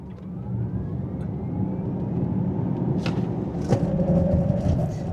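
A Cadillac LYRIQ-V electric car launches hard from a standstill in V mode, giving a steady rising whir and broadband road and wind roar that builds and holds across the run, with a faint tonal whine climbing underneath.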